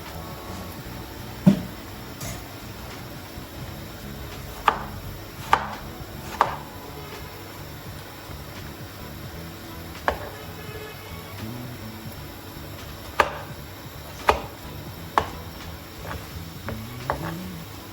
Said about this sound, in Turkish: Domateslerimizi de güzelce küp küp doğruyoruz.